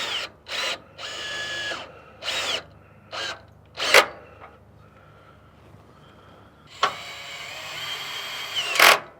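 Power tool in short bursts driving bolts on a Toyota Tacoma cat shield crossbar, several quick whirring pulses close by, then a pause and a longer run near the end.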